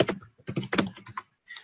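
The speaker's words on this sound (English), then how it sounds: "I'm gonna actually type it in" Computer keyboard typed on in short close bursts, several quick clustered keystrokes, a pause, then a final few taps, heard alone without talk.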